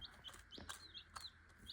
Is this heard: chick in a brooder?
yes